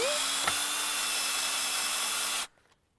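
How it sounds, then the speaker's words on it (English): A power drill drives a screw into a wooden pallet with a steady, loud whine at close range, lasting about two and a half seconds before cutting off abruptly, with no talking. "I'm going to screw this in"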